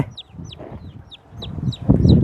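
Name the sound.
small chicken clucking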